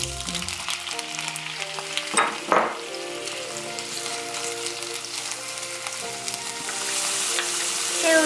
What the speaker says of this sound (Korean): 새우 올려주세요.